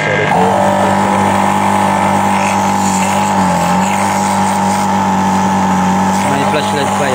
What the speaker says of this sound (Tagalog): Water pump pala, hindi compressor.